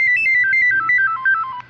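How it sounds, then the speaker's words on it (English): A cell phone plays a short descending electronic melody as it is switched off during a WTAM Cleveland radio broadcast, a run of clear, loud beeping tones stepping downward alone for under two seconds. "let me turn my cell phone off so it doesn't make noise on the air."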